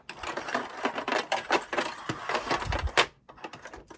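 A sewing machine zigzag stitching a small glued rope-style bow for a red key fob, a quick rattling, clattering run of needle strokes in uneven bursts, close and without talk.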